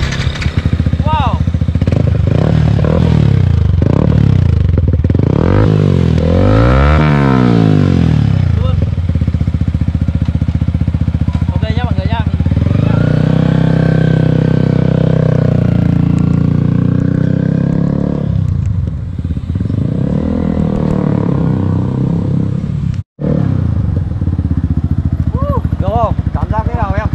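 A Yamaha R15 V3 motorcycle engine runs steadily throughout, with its pitch rising and falling as it revs, while people talk over it nearby.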